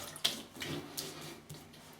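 A Merkur 37C safety razor rinsed under a running tap between shaving passes, with water splashing softly and steadily near the sink for a couple of seconds, alone.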